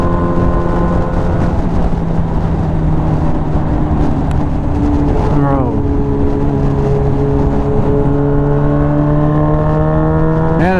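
A classic Honda car being driven at higher speed, with engine drone and gear whine steadily rising in pitch and a gear change midway, under constant loud wind and road noise from inside the cabin.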